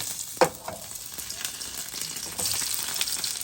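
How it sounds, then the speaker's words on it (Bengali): Small potatoes frying in hot oil in a kadai, a steady close sizzle with a sharp pop early on and occasional stirring clicks, growing slightly louder toward the end. "তেলের মধ্যে আবার আমি ভাজা শুরু করে দিয়েছি"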